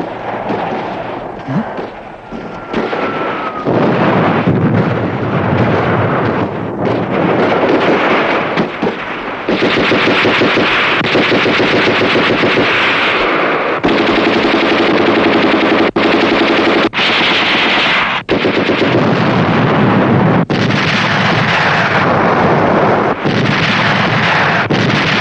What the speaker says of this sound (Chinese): 机枪。